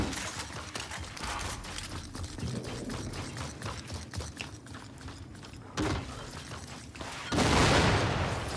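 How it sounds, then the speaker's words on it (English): Rapid shotgun blasts in Gears 5 during a team deathmatch, several loud bursts in quick succession over a busy background of game noise, with the heaviest blasts near the end. "It's amazing how the freaking shotgun works sometimes, how he can fire so many shots in a row."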